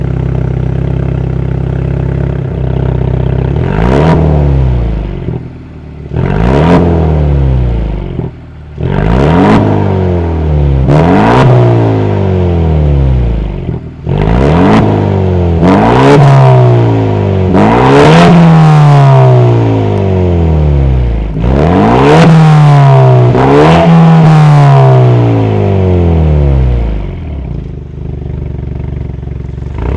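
A 2026 Ford Mustang EcoBoost's 2.3-liter turbocharged four-cylinder engine revs repeatedly, each sharp rise in pitch falling back to idle, loud and close, about nine blips in a row.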